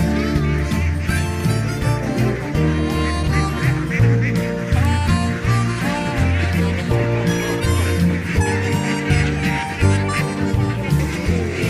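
A flock of ducks honking and quacking nonstop as they are herded and chased toward a truck on a farm, a loud, dense chorus of overlapping calls close by.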